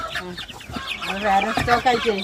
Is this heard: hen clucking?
yes